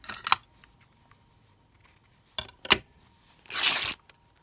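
Fabric is torn in half by hand while making a junk journal from an altered book; a few soft rustles and taps lead to one short, close, crisp rip.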